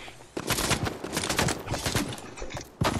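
Rapid automatic gunfire in the Fortnite video game, a dense burst of loud shots rattling almost continuously for a few seconds, then a brief pause before the firing resumes.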